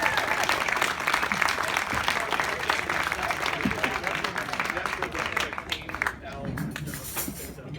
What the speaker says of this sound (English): how about a huge round of applause for your best men?